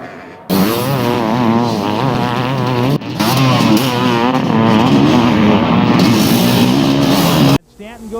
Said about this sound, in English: So Jeff Ward will win yet another 500cc moto in a very tough battle that saw Stanton on the ground as Wardy rides to victory